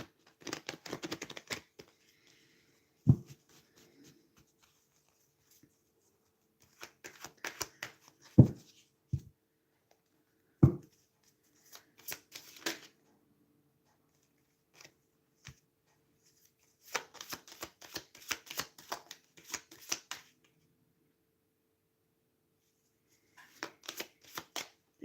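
A deck of tarot-style cards is shuffled during a reading, heard as scattered bursts of crisp, riffling card noise with pauses and a few sharp taps between them, close and fairly quiet, with no speech.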